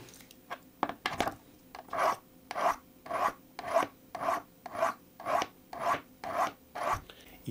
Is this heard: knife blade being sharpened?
yes